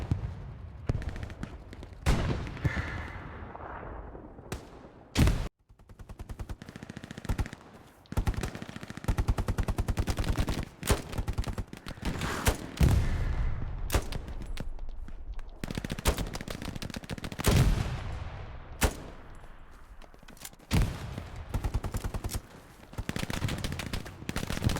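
Heavy gunfire in the WWII shooter Hell Let Loose: repeated bursts of machine-gun fire and single rifle shots crack close and loud, with near-constant battle noise between them.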